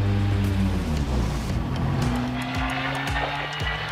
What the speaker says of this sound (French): là je vais démarrer la voiture